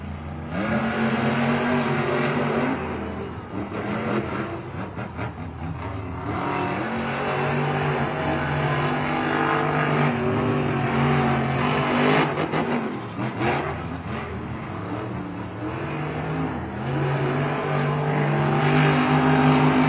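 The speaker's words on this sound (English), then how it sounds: "Our next matchup of the semifinals, make some noise for Adam Anderson and Gravedigger and Bryce Kenny, Monster Mutt." Monster truck engines, Gravedigger and Monster Mutt, rev at a Monster Jam stadium event in El Paso, Texas, a loud continuous roaring drone with rising and falling throttle swells over a crowd.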